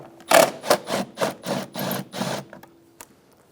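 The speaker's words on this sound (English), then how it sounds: "Using a 10mm socket, remove the two bolts on either side of the airbox." Ratcheting socket wrench clicks in a quick series of about eight rasping bursts, evenly spaced and close, as a 10mm bolt on the airbox of a 2007-2011 Toyota Camry is loosened, fading out at the end.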